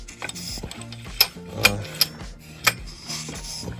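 A Homelite 923 chainsaw with a compression leak is turned over, giving a few sharp mechanical clacks and ratcheting clicks at an irregular pace, close by and without talk.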